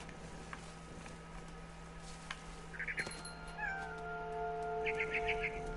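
A cat in the video game What Remains of Edith Finch gives a few short, close meows over a quiet ambient background, with faint ticking and small rustles between them.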